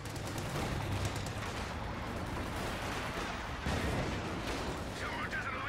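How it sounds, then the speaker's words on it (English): Gunfire crackles through a Company of Heroes 2 battle, dense bursts and rattling shots layered over a constant rumble of combat, with distant booms and scattered pops throughout. "Yes, you're getting shot by gunfire."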